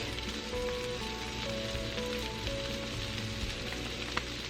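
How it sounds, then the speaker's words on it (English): Ginger and minced garlic sauté in a skillet for kung pao beef, giving a steady, even sizzle that holds at a moderate level throughout with no voices over it. "it's time to saute our veggies. Add your ginger, minced garlic,"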